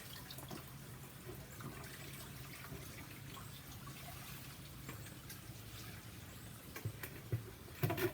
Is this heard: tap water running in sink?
yes